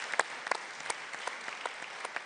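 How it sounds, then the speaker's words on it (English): Applause from a festival panel audience thanking the speakers, a steady wash of many hands with a few sharper individual claps standing out, fairly close and continuous. "Can we have a huge round of applause"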